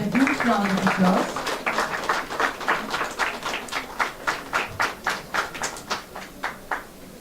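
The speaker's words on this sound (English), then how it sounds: "With a huge round of applause." At an international academic conference, an audience claps as guests are honoured, starting as mixed clapping under a speaking voice and settling into a slower, evenly spaced rhythm of distinct hand claps that fades toward the end.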